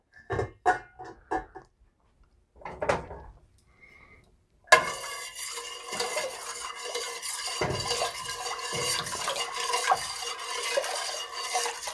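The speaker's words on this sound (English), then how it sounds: "and stir until dissolved." Sugar stirred into hibiscus wine liquid: a few separate clinks and taps against the container at first, then a dense continuous swishing and scraping of the spoon, close and steady, no voices.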